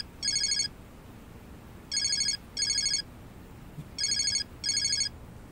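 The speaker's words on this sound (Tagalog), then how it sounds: "Tata, yung cellphone mo nagre-ring." A mobile phone ringtone rings in five short electronic bursts, one alone and then two pairs with brief pauses between, each clear and bright over a quiet room.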